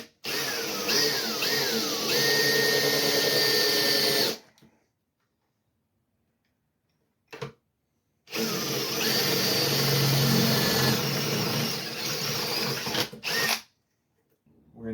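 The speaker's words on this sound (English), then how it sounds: "we drilled holes in this plastic part about 3/4 inch from the edge" Power drill boring holes in a plastic part for a 2012 Sprinter van horn upgrade, two long loud whining runs separated by a few seconds of silence and a short blip, close up.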